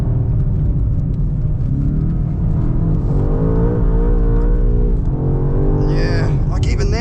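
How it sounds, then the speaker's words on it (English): A 2025 BMW M5 engine bellows through a gear pull, a loud, deep rumbling drone that rises and steps in pitch around shifts, with a voice talking over it near the end. "You've got this deep bellowing pop and bang and a thud during the upshifts"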